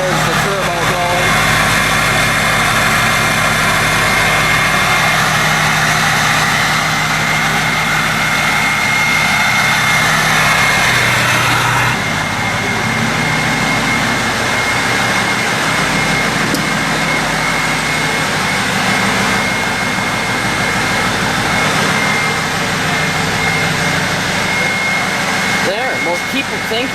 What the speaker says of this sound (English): There's the turbo going.